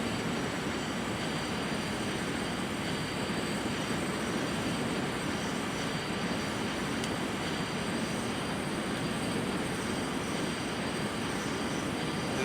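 A T-33 jet taxiing in a flight simulator, a steady, loud engine whine and rumble that holds constant throughout without variation or talk.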